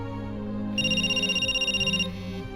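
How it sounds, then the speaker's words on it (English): A phone's electronic ringtone chirps in a fast pulsing burst of bright tones for over a second, loud and clear over a low musical underscore. "Trixie's phone suddenly rang."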